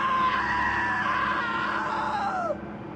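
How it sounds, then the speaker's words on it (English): A scream from a man who slipped into a table saw: a sustained, wavering high-pitched cry lasting about two and a half seconds, loud and close, ending with a falling pitch over a steady noisy background. "Now that was a great scream."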